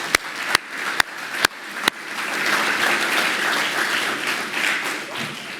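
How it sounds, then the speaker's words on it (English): Guests at a college awards dinner applaud: a few sharp, separate claps ring out first, then a full round of steady applause from the room swells and carries on to the end. "So let's give him a round of applause."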